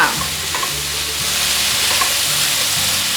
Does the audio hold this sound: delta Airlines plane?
no